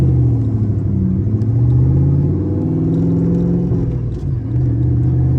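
A turbocharged Ford Mustang engine drones steadily from inside the car while driving, a loud low rumble with slight rises and dips in revs and no talking.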